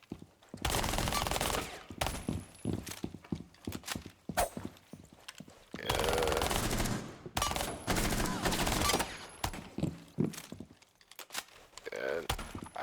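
Video game shooter gunfire in a high-speed gunfight, with loud rapid automatic bursts several seconds long separated by short pauses and scattered single shots, while a voice talks underneath.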